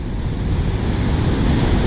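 Ocean surf during a huge swell churns as a constant, broad rushing roar at a west-facing beach, heavy in the low end and mixed with wind buffeting the microphone, with no distinct breaking crash.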